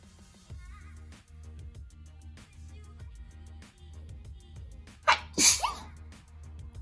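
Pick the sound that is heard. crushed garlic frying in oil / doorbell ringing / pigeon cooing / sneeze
sneeze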